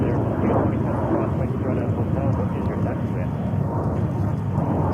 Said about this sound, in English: And we have here JetBlue 220-300.